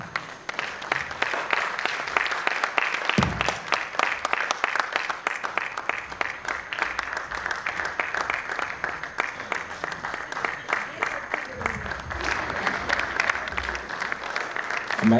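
Sustained applause from a theatre festival audience as an award is presented on stage, dense steady clapping that carries through the whole stretch with a brief low thump partway through.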